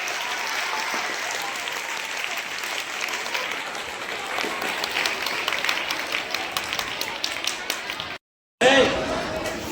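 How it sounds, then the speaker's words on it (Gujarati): A crowd claps loudly and continuously at a school donor felicitation event, dense applause that cuts off briefly before a voice begins speaking. "જોરદાર તાળી થઈ જાય."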